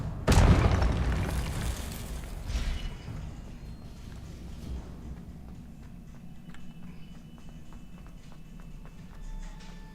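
A Confringo spell explosion in the video game Hogwarts Legacy, a heavy booming blast at the start that rumbles and fades, followed by quieter ambient game sound and footsteps.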